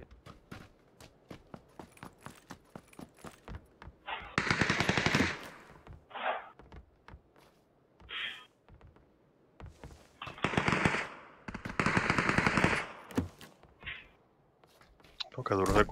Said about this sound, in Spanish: Porque duro se escuchan esos tiros.